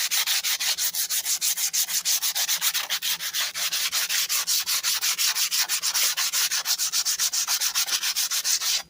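A steel MTD lawn mower blade being sanded by hand, with fast, even rasping strokes repeating in a steady rhythm for the whole stretch, close and fairly loud, with no voices.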